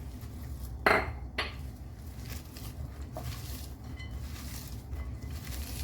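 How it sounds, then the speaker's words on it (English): Sliced onions being mixed with spices in a bowl make soft, close rustling and squishing with a couple of sharp clinks of utensil against the bowl early on. "So I will put all of this into the onions, and I am now going to mix this in together."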